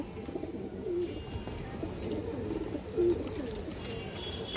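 A racing pigeon gives two soft, low coos about two seconds apart, close but quiet against a murmuring indoor background.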